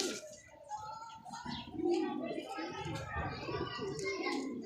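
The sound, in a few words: Kasuri pigeons cooing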